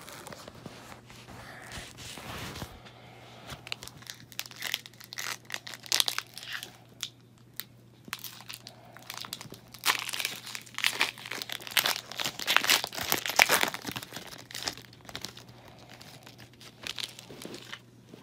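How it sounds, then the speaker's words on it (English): Pokémon Scarlet and Violet Paradox Rift card packs torn open and handled, with soft crinkling and tearing foil plus rustles coming in bursts, busiest mid-clip, close by over a low steady hum. "Time to open cards."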